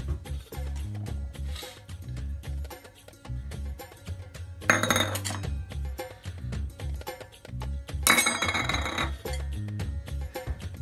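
Chicken and prawns tossed with spices in a bowl give off soft clinks and scrapes, with two brief louder bursts of rattling and faint background noise.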